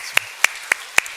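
Four sharp, evenly spaced hand claps ring out at a church service, the congregation applauding the choir after its gospel hymn; the claps are close and crisp with near silence between them.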